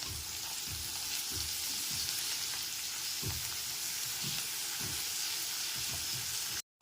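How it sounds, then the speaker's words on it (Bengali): Ginger, garlic and green chilli paste frying with onions in a pan gives a steady, close sizzle, with soft rhythmic scrapes of stirring spaced through it. "আদা রসুন আর কাঁচা লঙ্কার পেস্টটাও পেঁয়াজের সাথে খুব ভালো মতো কষিয়ে নিতে হবে"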